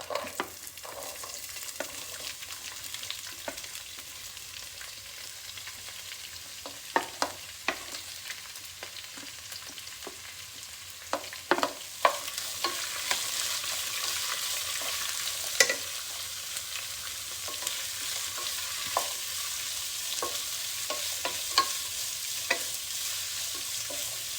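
Sliced onion sizzles steadily in hot oil in a home kitchen pan while a spatula stirs it, with scattered scrapes and clicks over a soft continuous hiss and no voices.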